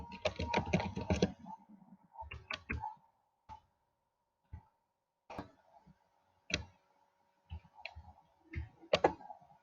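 Keys clacking on a computer keyboard, a dense burst of rapid typing at the start, then scattered single and paired keystrokes with pauses, close and fairly quiet.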